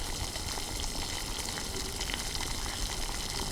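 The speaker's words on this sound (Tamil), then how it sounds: "அப்புறம் தண்ணி ஊற்றிக்கோங்க." Water is poured into a pot of country chicken soup, making a steady, close gushing and splashing that stays constant throughout with no voices.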